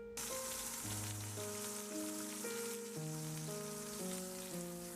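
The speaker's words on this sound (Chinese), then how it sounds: "热锅倒入一点油，把鸭放入，出一出油，把皮煎到焦黄" Duck with its skin down sizzles in a little oil in a hot wok for pickled lime braised duck, a steady bright hiss running throughout beneath louder melodic background music.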